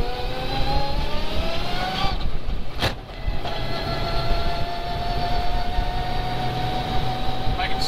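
Car engine accelerating hard during a clutch and EFI tuning run, a steady loud drone rising in pitch with a brief dip around a gear change, heard from inside the car.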